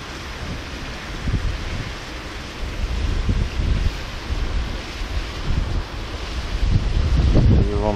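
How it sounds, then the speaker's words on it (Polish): Strong, cold spring wind buffets the microphone at a lakeside fishing spot, a continuous roar with gusty surges and low rumbling bursts, while water laps faintly underneath and no one speaks. "wiatr wieje dosyć mocno, jest zimno"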